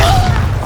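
Bombarda blasting spell exploding in Hogwarts Legacy, a loud, deep, booming blast that rumbles heavily for the whole short moment.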